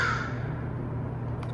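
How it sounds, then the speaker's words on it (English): Crows caw once or twice nearby outdoors, a short harsh call that fades quickly over a low steady background hum. "Crows."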